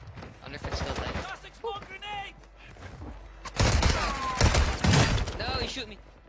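Gunfire in the Warzone video game crackles in short bursts of shots, loudest in the second half, while people talk over much of it.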